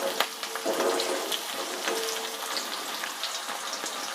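Big and small onions sauté in oil in a pan for sundakai vatha kuzhambu, giving a steady, close sizzle and crackle with light scraping and stirring throughout.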